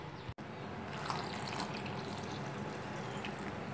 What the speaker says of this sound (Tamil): பாருங்கள் இதில் தண்ணி ஊற்றி